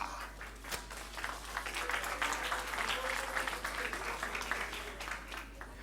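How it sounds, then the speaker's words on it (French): A crowd applauds steadily for several seconds, a dense wash of clapping over a low electrical hum. "On applaudit très très fort"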